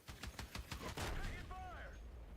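Rapid bursts of gunfire in the video game Battlefield 6, a quick run of sharp shots followed by a dense volley, with a voice speaking at the end.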